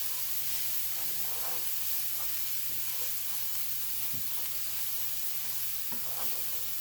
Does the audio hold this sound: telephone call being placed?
no